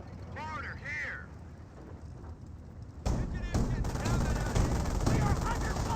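Rapid bursts of gunfire and explosive impacts from a Company of Heroes World War II battle between US forces and Panzer Elite, starting quieter under voice lines, then swelling into dense, loud, continuous combat noise.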